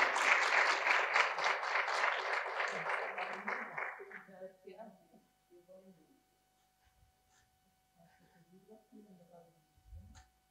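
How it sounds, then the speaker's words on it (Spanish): An audience at a book launch claps for Paulina Bello, a loud burst of many hands for about four seconds that quickly fades, followed by quiet room sounds and faint murmuring. "Un fuerte aplauso a Paulina."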